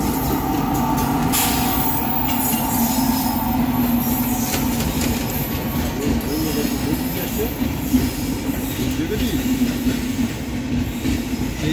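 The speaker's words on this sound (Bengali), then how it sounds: "আমাদের ট্রেন এখন এসে পৌঁছালো হরিদ্বার জংশনে।" The Upasana Express pulls into Haridwar Junction with loud continuous rumble, wheel squeal and rattling carriages, close and steady throughout with no speech.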